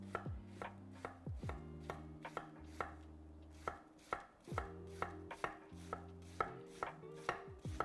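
A knife shaves cabbage thinly on a cutting board for Mexican chicken pozole verde, with crisp, close chops in a quick, even rhythm and no one speaking.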